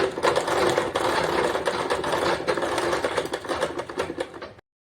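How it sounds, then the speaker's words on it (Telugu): Sewing machine stitching a blouse seam, running steadily with a fast, even mechanical whir and clatter, close and loud, that stops abruptly near the end. "ఒక మూడున్నర ఇంచుల వరకు ఒక స్టిచ్ వేసుకోవాలి ఒక హాఫ్ ఇంచ్ మందంతో"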